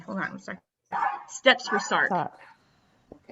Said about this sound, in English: I'm sure you can hear the barking in the background